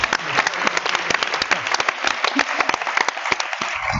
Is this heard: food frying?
no